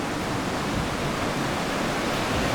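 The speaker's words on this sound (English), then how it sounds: "of course, the sound is because I'm right on the river here" A river flows right outside a room at a nature resort hotel near Ella, Sri Lanka. Its rushing water makes a close, steady, broad hiss that fills the whole clip, with no voices.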